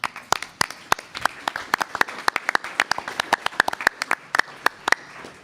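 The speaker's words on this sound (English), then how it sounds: "Can we give a round of applause for our team here?" A small group claps for the team at a school board meeting and budget hearing, sparse individual claps with distinct sharp hits in an irregular rhythm, fairly close, lasting several seconds.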